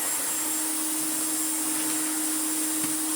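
An Electrolux Dolphin Z2220 cylinder vacuum cleaner, freshly restored, runs at high suction with a steady loud whine and motor hum, constant throughout and close.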